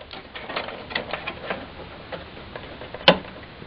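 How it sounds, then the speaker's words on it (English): White RAM socket pins pushed down to release a RAM stick, giving soft clicking and tapping and then one sharp plastic snap near the end. "First, you start off by pushing down the white pins."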